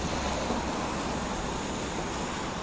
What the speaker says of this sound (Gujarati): પુષ્કળ પાણી ગાંધીનગરમાંથી પસાર થઈ રહ્યું છે